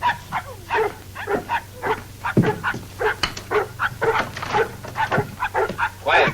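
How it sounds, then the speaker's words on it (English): An injured, limping dog in a radio drama barks and whimpers in a quick, uneven series of close, loud yelps that last throughout. "It's not a man. It's a dog."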